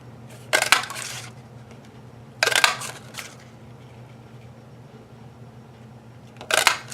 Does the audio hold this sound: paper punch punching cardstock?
yes